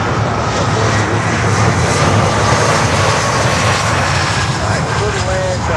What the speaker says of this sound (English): That's KLM 330-300 coming in from Amsterdam